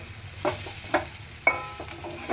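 Chicken and banana flower mixture stirred with a metal spatula in a pan, giving a few scraping strokes at a steady pace over a soft sizzle, close and moderately loud with no talking.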